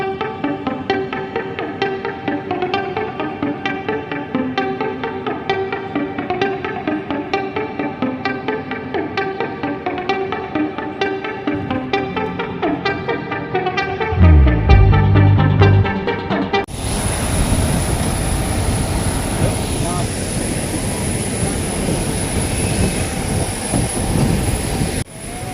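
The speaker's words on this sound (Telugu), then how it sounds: "ఓకే అండి, ఢిల్లీ ఎయిర్పోర్ట్ వచ్చింది. ఫ్లైట్ ల్యాండ్ కావడానికి సిద్ధంగా ఉందండి." Passenger jet on a Hyderabad to Delhi flight landing at Delhi airport: a steady, loud cabin engine roar with droning tones, rising to a heavier, broadband rush and rumble in the second half as the aircraft comes down.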